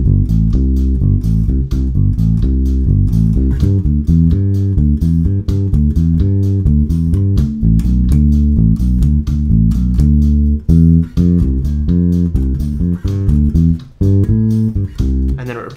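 A Motown bass line plays in full band context, a bouncy repeating riff carrying steadily over drums and instruments for the whole stretch.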